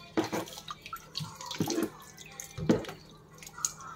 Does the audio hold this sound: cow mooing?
no